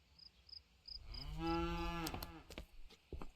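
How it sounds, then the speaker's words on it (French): Cattle in the video game Contraband Police give one long, drawn-out moo that swells and fades. Faint repeated chirping runs before it and a few soft clicks follow, all fairly quiet. "parce qu'il a des vaches en plus"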